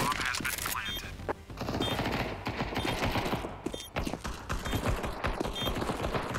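Shotgun fire in Counter-Strike 2 during a bomb round, rapid loud blasts repeating in close succession over a busy game soundscape with brief high beeps.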